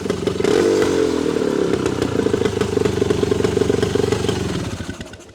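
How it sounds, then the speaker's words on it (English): A 1973 Yamaha DT3 250cc enduro motorcycle engine running close and loud, a steady buzzing idle with a rattly mechanical clatter that fades slightly at the end. "Just a fantastic little motorcycle. 250 is a sweet spot."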